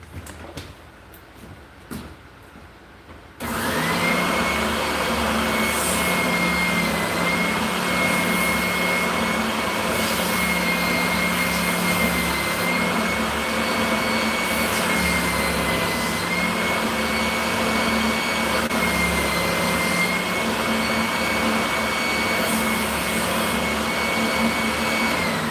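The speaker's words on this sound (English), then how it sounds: "I'm not digging this curve here, so I'm just going to go hit it on a sander." A bench sander runs steadily while smoothing the curved wooden body of a drop spindle for yarn spinning, starting abruptly after a few seconds of quiet and holding a loud, even motor whine with a sustained grinding rasp, no talk.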